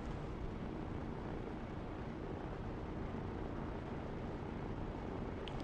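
A C-130J cargo plane flying in the Arma 3 game, a steady, loud, broadband engine drone and rushing roar that holds unbroken throughout with no voices.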